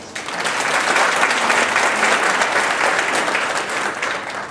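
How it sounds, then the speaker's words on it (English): Parents applauding at a National Junior Honor Society induction ceremony, a full, steady wash of clapping that swells quickly and holds for about four seconds before easing. "Give yourselves a round of applause."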